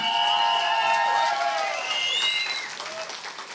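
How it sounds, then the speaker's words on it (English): A crowd at a Welsh independence march claps and cheers, with voices whooping and calling out over the applause before it gradually dies down. "I think you need to give yourself a round of applause"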